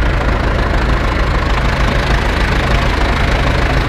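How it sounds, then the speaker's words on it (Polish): Ursus C 360 tractor diesel engine idling steadily nearby, a continuous low chugging rumble held at constant loudness throughout with no talk. "Traktor."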